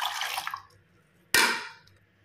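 Water added to thin ragi milk comes as a short splash and pour. A sharp onset is followed by a fading trickle, preceded by a softer watery sound at the start.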